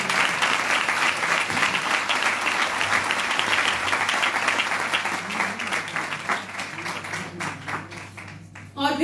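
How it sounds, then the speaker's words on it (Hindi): A Christian seminar audience breaks into loud, dense applause, a continuous wash of many hands clapping that fades slightly near the end. "आप जोरदार तालियां बजाएं खुदा के खिलाफ।"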